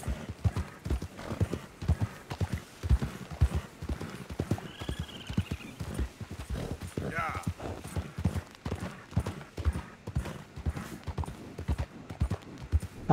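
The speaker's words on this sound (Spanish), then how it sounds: "Vamos, caballito, tú puedes." A horse gallops in Red Dead Redemption 2, its hooves pounding in a fast, steady rhythm close by, with a voice speaking over the run and a brief whinny partway through.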